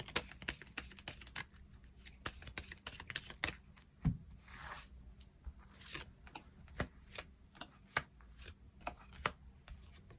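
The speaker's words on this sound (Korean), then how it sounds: "추가 카드 뽑아보도록 하겠습니다" Tarot cards being shuffled and drawn, a run of close, crisp taps and riffling snaps scattered irregularly over several seconds, with a brief rustling swell midway and no talking.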